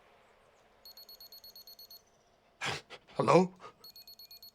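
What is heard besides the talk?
beeping sound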